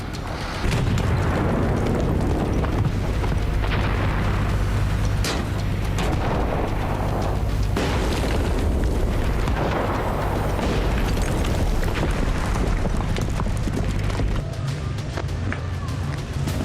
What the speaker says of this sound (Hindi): धमाके हुए, आग की लपटें उठी और भीषण तबाही मची।